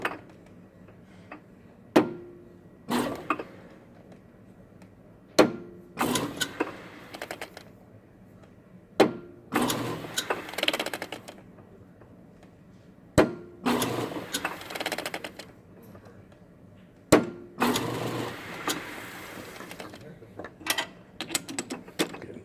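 A lathe turns a bent snare drum tension rod from a Rogers Dynasonic snare, giving repeated short mechanical bursts of clatter and grinding at close range with quieter gaps between them and no talking.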